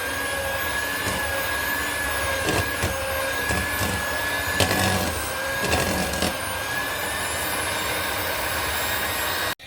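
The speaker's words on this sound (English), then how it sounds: "So let's mix it with the electric cake beater or mixer." Electric cake mixer whirring steadily while blending banana loaf batter ingredients, a continuous motor drone with bursts of clattering as the beaters knock against the bowl.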